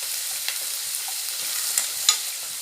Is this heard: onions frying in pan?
yes